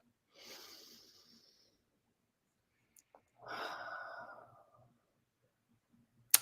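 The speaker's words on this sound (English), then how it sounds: "Let out a couple exhales through your mouth." Two slow, breathy exhales through the mouth during a guided breathing exercise, soft and close with a quiet pause between them.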